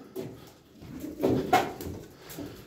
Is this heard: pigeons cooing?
yes